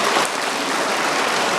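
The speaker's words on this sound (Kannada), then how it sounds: "ನಿಮ್ಮೆಲ್ಲರ ಚಪ್ಪಾಳೆ ಮೂಲಕ ನಾನು ದಾಸರಳ್ಳಿ ಕ್ಷೇತ್ರಕ್ಕೆ ಸ್ವಾಗತವನ್ನು ಕೋರುತ್ತೇನೆ" Dense, steady applause from an audience welcoming a visiting minister at a public felicitation event, filling the whole moment without a break and with no voices rising above it.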